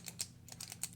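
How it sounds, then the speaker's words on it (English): A clicky pen is clicked several times in quick succession, producing faint, crisp mechanical ticks close by against a low background hum. "Yeah, clicky pen."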